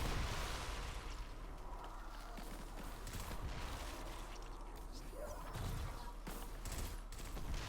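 Telesto weapon fire in Destiny 2, heard as repeated sharp bursts and impacts layered over a constant, busy wash of combat noise, fairly faint overall.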